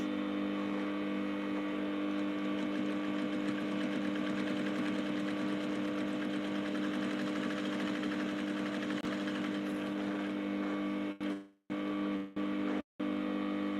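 A sewing machine runs a final double stitch line on a corset. Its steady, loud, fast mechanical hum holds for about eleven seconds, then gives way to a few short stop-start bursts before it halts.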